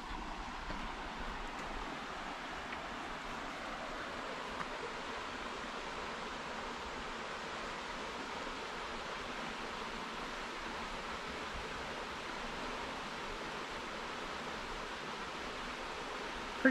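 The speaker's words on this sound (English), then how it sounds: "Pretty relaxing river." A small runoff waterfall at Falling Creek Falls, also called Rootbeer Falls, rushes into a gentle river in a steady broadband hiss that holds even and unbroken throughout, with no voices over it.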